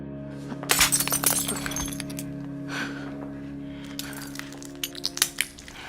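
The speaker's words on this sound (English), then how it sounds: "we see a glass crushed into her hand, to which she barely reacts" Glass cracking and breaking as it is crushed in a hand in Blade Runner 2049, with a loud burst of shattering clinks early on and sharper crackles near the end over a low steady hum.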